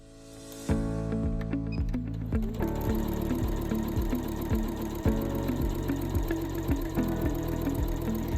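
A domestic sewing machine runs steadily while stitching a quilt seam, with a fast, even mechanical chatter and a regular hum. It starts after a brief pause and keeps going at a constant pace, close and clear.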